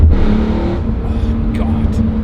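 A BMW E46 M3 CSL engine snorts and growls steadily under acceleration, a loud continuous rumble with no break across the whole stretch.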